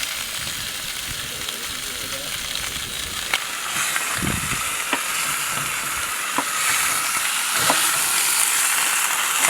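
Sausage sizzles and hisses steadily in a pan over a camp stove outdoors, with occasional clinks and taps of a utensil against the pan, close and constant throughout.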